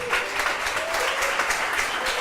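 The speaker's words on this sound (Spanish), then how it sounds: "Denles un aplauso a los logísticos." A church audience gives a short, steady round of clapping to honour the logistics volunteers. The applause is dense and continuous for about two seconds, with faint voices underneath.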